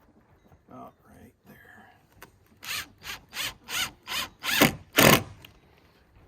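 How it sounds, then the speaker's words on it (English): Screws with a bigger bite being driven into a wooden nesting box, a series of about eight whirring, ratcheting bursts from the driver that grow louder toward the end, close by after a brief spoken word. "we'll switch out the bits and put one of these bigger bite screws down here low."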